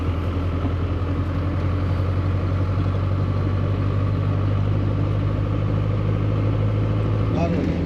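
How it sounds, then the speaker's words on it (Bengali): A car engine drones steadily and loud throughout, a low continuous hum of a vehicle driving along a mountain road beside the Teesta river in Sikkim, with a brief sweeping whine near the end. "আমাদের গাড়ি এখন এগিয়ে চলেছে।"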